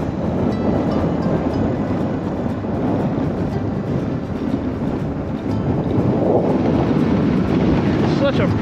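Strong gusts buffet the microphone outdoors beside a closed dock at a lake with extremely low water in Copper Breaks State Park, a loud, steady low rumble with surging swells that fill the whole stretch.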